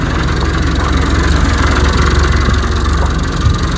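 A loader tractor's diesel engine idles steadily close by on a farm while a squeezer attachment is being removed, a continuous loud rumble throughout.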